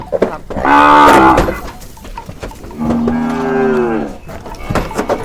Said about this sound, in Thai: เฮ้ยวัวอะไรขนาดนั้น